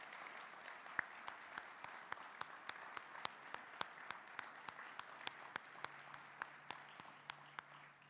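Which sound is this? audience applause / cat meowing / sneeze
audience applause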